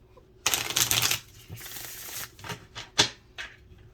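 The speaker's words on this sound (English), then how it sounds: "These ones aren't quite as spastic when you shuffle them" Oracle cards are shuffled in a riffling burst, followed by several short, sharp flicks and taps as the deck is handled, close and crisp.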